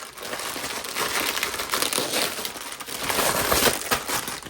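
A plastic bag crinkles loudly and continuously, close up, as it is pulled out of another bag during an unboxing, with rustling swells and no talk.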